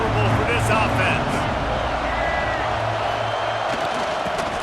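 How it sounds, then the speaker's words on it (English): A football stadium crowd roars steadily at a Texas versus Duke game, a broad, continuous wash of distant cheering and noise that sits under loud play-by-play commentary. "This crowd trying to make life miserable for this offense."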